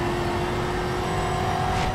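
Race car engines roar in the Xbox 360 racing game Need for Speed Shift, a loud sustained high-revving drone with a steady engine tone, ending in a brief rising swell.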